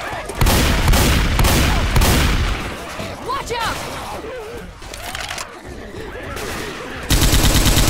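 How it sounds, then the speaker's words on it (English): Minigun fire in the Left 4 Dead 2 video game, a loud, dense, sustained roar at the start that breaks off, then resumes at the end, with voices shouting in between. "I hear a minigun."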